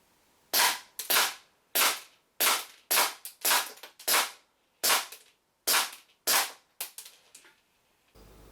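A WE GP1799 green gas blowback airsoft pistol fires 0.2 gram BBs in about a dozen sharp, loud cracks, spaced unevenly with brief pauses between shots.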